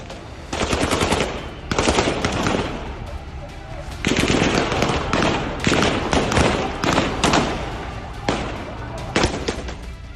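Heavy gunfire from the Syrian civil war crackles in dense, rapid automatic bursts, loud and near, broken by short gaps, with sharp single cracks between the volleys.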